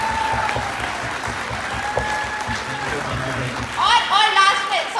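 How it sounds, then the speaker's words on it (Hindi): Workshop audience clapping steadily throughout, a dense crowd applause that swells louder near the end, with voices audible underneath. "ताली बढ़िया सी बजा दो इनके लिए पहले"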